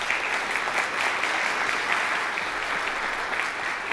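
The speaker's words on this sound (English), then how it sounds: "Let's give them all a round of applause." An audience at the NODEM 2012 conference opening ceremony in Hong Kong gives a sustained round of applause, even and full, moderately close, with no voices over it.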